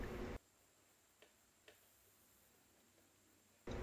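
A Yamaha R1 motorcycle rear wheel spins freely on its axle, giving off a few faint, sparse ticks against near silence.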